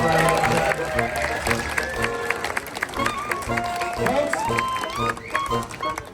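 A crowd claps in scattered bursts beneath a loud voice calling out, with a busy, reverberant hall atmosphere throughout, in Galway, Ireland.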